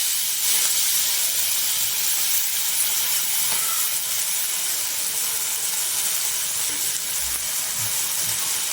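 Spinach hits a hot pan with tomatoes, turmeric and asafoetida for a Kathiyawadi dish, giving off a loud, continuous hissing sizzle of steam close up.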